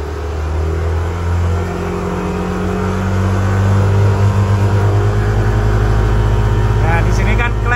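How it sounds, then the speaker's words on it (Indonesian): A car engine runs on a DynoTek dynamometer with the throttle opened and held at 6000 RPM, producing a loud, sustained, close-up roar that climbs slightly in pitch and then stays steady. "Dibuka gas ke 6000, ditahan."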